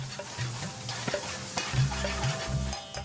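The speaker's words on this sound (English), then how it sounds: "The chef fries some onions and some chilli in a large frying pan." Onions and chilli sizzle and crackle in a large hot frying pan while a utensil scrapes and stirs in short repeated strokes, close and steady.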